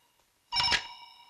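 A telephone rings once in a police station, a bright multi-tone electronic ring starting abruptly and sustaining clearly without speech.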